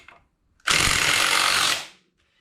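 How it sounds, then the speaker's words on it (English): A pneumatic impact wrench rattles loudly in one continuous burst of about a second on the lug nuts of a 1971 Triumph Spitfire MK III, starting abruptly and stopping with quiet before and after. "I'm hammering off these old rusty lug nuts"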